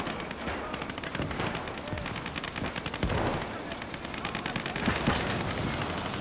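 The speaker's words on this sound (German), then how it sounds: "da kommt noch Artillerie" Battle noise in the World War II strategy game Gates of Hell as artillery comes in: dense, rapid machine-gun and rifle fire rattles without pause, with heavier booms thudding through about midway and near the end.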